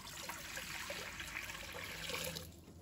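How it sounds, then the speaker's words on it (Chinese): Clean water pours into a cooking pot at a home stove, a faint continuous splashing rush lasting a few seconds before tapering, with no talk. "倒入清水"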